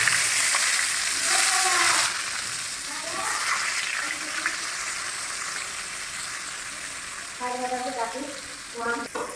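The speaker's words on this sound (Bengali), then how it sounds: "এবার পটলগুলো ভেজে নেব।" Pointed gourd (potol) slices frying in oil for a potol-prawn dish, a steady broadband sizzle with crackling throughout, with someone talking intermittently over it.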